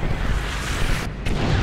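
A drone air strike explosion in the Call of Duty Ghosts video game: a dense, loud, rumbling blast that roars continuously through the moment, with a brief dip before the roar resumes.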